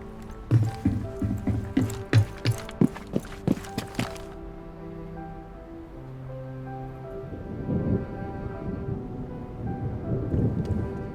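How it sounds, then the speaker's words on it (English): Thunderstorm with rain in the Emerald Plains area of a video game: a run of sharp, crackling thunder claps in the first few seconds, then a steadier wash of rain and low rumbling with no talking. "you can clearly hear the thunderstorm on the right side"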